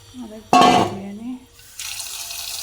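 Tap water runs into a sink while kidney beans and large potatoes are rinsed for rajma, a steady splashing that comes in after a short burst of voice and carries on alone.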